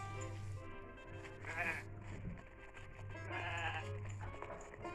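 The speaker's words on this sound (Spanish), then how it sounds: "Las ovejas." Sheep bleat in a couple of loud, wavering calls over a steady low hum, with short gaps between the cries.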